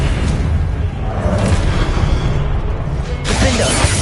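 A Confringo fire spell explodes in Hogwarts Legacy, played on PlayStation 5: a dense, loud, continuous rumbling blast with crackling bursts, swelling again near the end.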